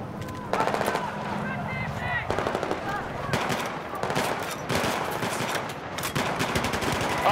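Rapid machine-gun bursts and gunfire from Battlefield 4 rattle loudly and nearly continuously, with repeated volleys and a voice speaking briefly under the shooting.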